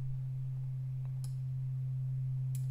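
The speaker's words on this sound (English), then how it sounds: "Really simple sine wave." A plain sine wave oscillator in the Steinberg HALion 6 synth holds one steady, pure low tone throughout, smooth and constant, with a couple of faint clicks over it.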